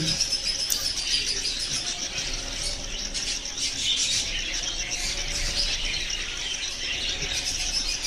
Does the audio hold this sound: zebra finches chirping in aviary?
yes